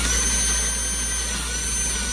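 A power drill whirs continuously at a steady, loud pitch while driving into a custom-built road case for an Allen & Heath QU32 mixer, a close, sustained motor whine with no pauses.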